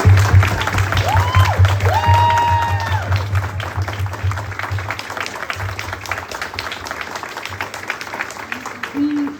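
An audience at a county executive candidate forum in a Wootton High School hall gives a big round of applause mixed with crowd cheering and voices, loud at first and slowly tapering off.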